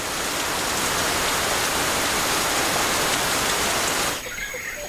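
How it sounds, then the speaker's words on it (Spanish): Heavy, steady rain pours down in a mountain cloud forest, a dense, loud hiss filling nearly the whole clip before dropping off abruptly in the final moment, with no voices. "Aquí llueve casi cada día."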